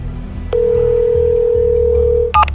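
A telephone handset gives a steady, continuous dial tone for nearly two seconds, followed by a brief higher beep at the end, with a low indoor hum underneath.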